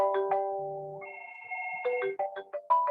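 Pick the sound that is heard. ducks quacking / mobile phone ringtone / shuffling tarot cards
mobile phone ringtone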